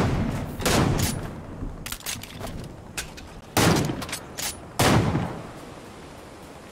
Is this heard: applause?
no